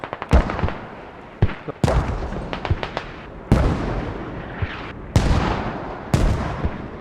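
Mortar and artillery fire in the video game Squad during a competitive Invasion match, with a string of loud, sharp booming blasts spaced irregularly across several seconds, each with a rumbling tail and no talk.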